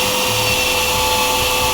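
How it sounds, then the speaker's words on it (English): Shop vacuum cleaner running steadily in a workshop during metal fabrication of an e-brake for a small ramp, giving a constant loud whooshing drone with no speech over it. "what I like to do is turn my vacuum cleaner on"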